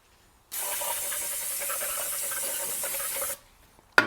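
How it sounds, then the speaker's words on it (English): A steady hissing burst of aerosol cleaner sprayed onto the cylinder head of a 2009 Subaru Forester lasts about three seconds, close and even, then cuts off sharply, followed by a faint click. "you just sprayed the other head"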